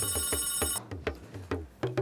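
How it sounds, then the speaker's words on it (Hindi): A mobile phone rings indoors with a repeating ringtone. The ringing is loud and close and holds a steady rhythmic pattern, and no one talks over it. "फोन है उठाओ पहले, जल्दी उठा लो, फोन कट जाएगा नहीं तो"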